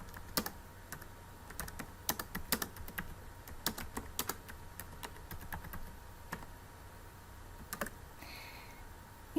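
A question is typed into an online Google Forms quiz on a computer keyboard. Quiet, close keystrokes click in irregular bursts, with brief pauses between words.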